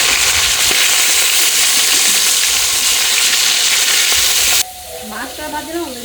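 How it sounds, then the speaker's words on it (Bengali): Hilsa fish pieces frying in oil give a loud, dense crackling sizzle that runs steadily up close, then cuts off abruptly near the end, leaving quieter kitchen background with faint tonal sounds. "ইলিশ মাছ ভাজা কমপ্লিট, এখন তুলে নেবো"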